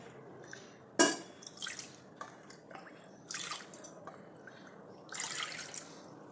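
Three cups of water splash into a pressure cooker on a gas stove in short bursts, with a sharp first pour and then several uneven gushes and drips, close and fairly quiet.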